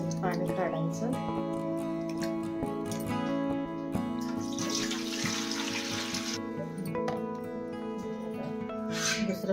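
Water is poured off soaked khapli wheat in a home kitchen, a steady trickling and splashing with a few clinks of the vessel, running continuously at moderate level.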